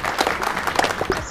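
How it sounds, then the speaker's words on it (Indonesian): A few people clap their hands in a brief loose burst of claps that runs unevenly through the moment, fairly loud and close, with some voices mixed in. "Kau suka hati tepuk tangan."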